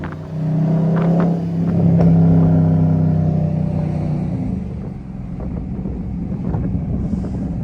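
A widebody Dodge Scat Pack drives a mountain road in Arizona, its engine giving a steady, loud low rumble that swells slightly midway, with wind noise buffeting the microphone throughout.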